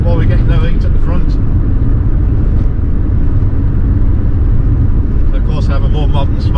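A Hillman Imp's rear-mounted engine runs with a steady, dense low rumble throughout, loud and continuous, while a person talks over it.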